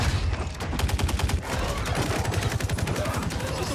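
Rapid automatic gunfire from the video game Mortal Kombat 11 runs continuously as a dense, steady burst of shots, loud and close, with no talk over it.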